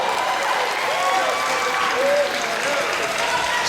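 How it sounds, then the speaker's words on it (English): Applause from the audience at a student live drum concert, a steady dense wash of clapping that holds for several seconds, with a voice speaking faintly underneath. "Another big round of applause"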